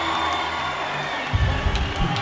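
Spectators at a high school volleyball game murmur steadily, then break into a louder burst of cheering and shouting partway through, with a faint voice mixed in.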